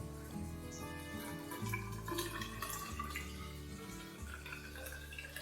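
Water pouring steadily into a foam handwash mixture in a container, a continuous gurgling, trickling flow with a slowly rising tone as the vessel fills, quiet and close.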